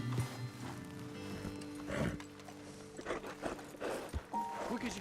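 Horses in Red Dead Redemption 2 being dismounted and led on foot, with soft hoof clops, creaking tack and a brief snort, plus faint mechanical clicks throughout.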